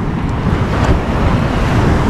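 Rough sea surf rolling on a misty, drizzly day, a steady broadband wash of breaking waves mixed with wind buffeting the microphone, loud and continuous with no voices.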